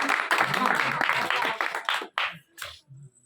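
Loud congregational applause at a church service, a dense burst of clapping that thins into scattered claps and voices before fading out.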